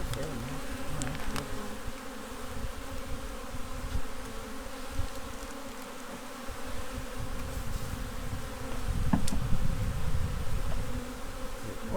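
Honey bees from a package swarm buzz around a newly installed hive, a dense close drone with individual bees swelling louder as they pass near.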